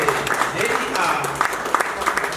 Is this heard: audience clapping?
yes